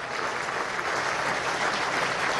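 A burst of loud, dense applause from an audience at the closing of an international summit against fascism, continuous clapping with no pause.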